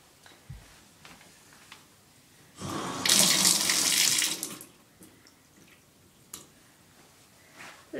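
A bathtub faucet is opened a little and water gushes briefly for a couple of seconds, a loud close splashing rush that then cuts off into quiet room tone with a few faint knocks.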